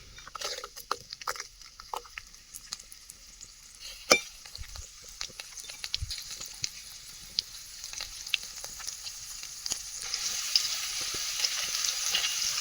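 Garlic sizzling in hot ghee in a pan, a steady close crackle with occasional stirring clinks and scrapes, building a little louder toward the end.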